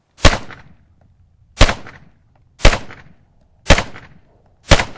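Five pistol shots fired at a shooting range, each a sharp loud crack with a short decaying tail, spaced about a second apart, no talking.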